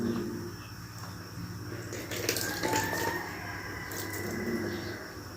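Squeezed potato water poured into a cooking pot while making a semolina snack, a soft trickling splash that rises and falls over several seconds against kitchen background noise.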